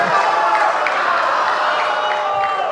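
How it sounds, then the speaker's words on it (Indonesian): An audience at a Sumatera Selatan gubernatorial debate applauds in a steady, even wash of crowd clapping that holds throughout without clear breaks. "Kita beri tepuk tangan untuk sesi ini."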